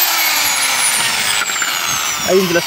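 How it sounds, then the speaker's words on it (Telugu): A power drill boring a hole with a 1-inch screw into the edge of a puff panel during installation, a loud continuous high whine close by with a brief voice near the end. "1 ఇంచు స్క్రూ తీసుకొని ఫస్ట్ మనం హోల్ చేసుకోవాలి ఇది ఎడ్జ్ మీద"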